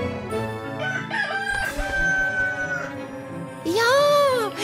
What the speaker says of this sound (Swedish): Ja, så säger tuppen.